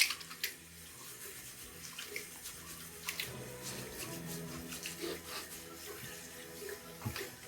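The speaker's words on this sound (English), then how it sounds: "I'm gonna quickly wet my face" Warm tap water runs steadily into a sink while hands splash it onto a face before a safety razor shave, a continuous close rushing with small irregular splashes throughout.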